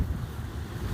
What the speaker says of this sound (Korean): 바람이 엄청 셉니다